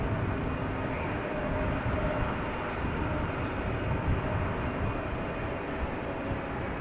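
Steady, broad jet-engine roar from GE90 engines spooling up somewhere at Schiphol Airport, heard from a distance as a continuous rumbling wash with no talking.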